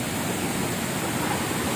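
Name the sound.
flooding Tonlob river water rushing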